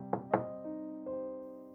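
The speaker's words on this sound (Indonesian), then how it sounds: "Ia mengetuk pintu dengan perasaan yang ditahan." Two sharp knocks on a wooden door in quick succession, close and distinct, followed by a lingering low tonal ring in a quiet room.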